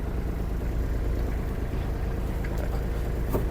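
Kubota KT-27 mini tractor engine running steadily as it slowly turns around, a loud continuous close-up drone with a low rumble and no break.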